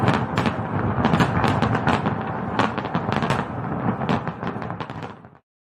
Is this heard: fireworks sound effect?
yes